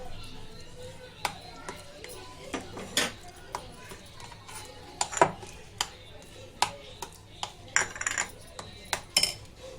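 Metal utensils clink and scrape against a pot while cardamom powder is stirred into a wheat-flour sweet mixture, sharp irregular taps and clatters over a quiet background hum.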